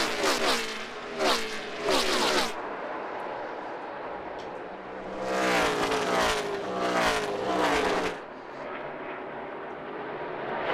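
NASCAR stock cars race at Phoenix. Several loud passes go by with the engine pitch sweeping down, separated by a lower, more distant roar from the field.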